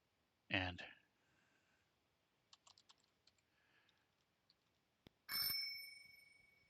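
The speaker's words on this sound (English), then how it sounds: "shakes his little bell, puts it away." A small hand bell rings in bright, ringing bursts, one at the start and a longer shake near the end, with soft clicking in between.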